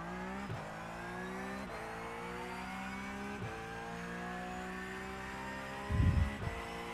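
A Porsche race car engine in iRacing at Le Mans, droning steadily and climbing in pitch through several gear changes, ending in a brief low rumbling burst.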